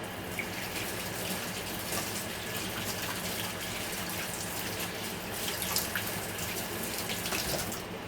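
Tap water runs steadily and close by as a glass jar is rinsed out under it, a continuous even splashing rush with no talk, in a home kitchen during onion pickling and canning.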